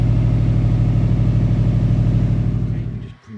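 Metro 6R4 rally car engine held at a steady high rev, a loud, rapid pulsing drone that drops away abruptly as the throttle closes near the end, with no talking.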